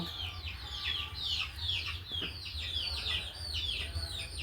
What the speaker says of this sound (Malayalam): നാടൻ കോഴിയാണ്